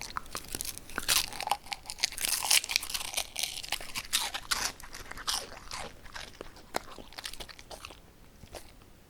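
Crunchy food eaten close up, with repeated crisp bites and crackling chews in an irregular rhythm, fairly quiet and with no voices.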